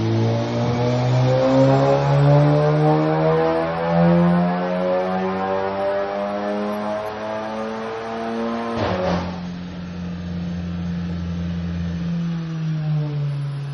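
A stage 3 remapped VW Golf Mk7 R with a Wagner Competition intercooler, 3.5-inch downpipe and full custom exhaust revs on a Dynojet dyno, its engine tone climbing steadily through a long pull, then a sharp burst at the shift before it rises again, loud and close.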